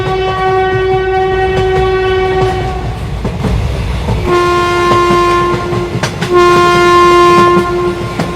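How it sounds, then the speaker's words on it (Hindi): A train pulls into a station, its horn sounding in long sustained blasts at intervals over the steady rumble and rattle of the cars, loud and close with no talk. "तभी इन लोगों को ट्रेन की आवाज सुनाई देती है।"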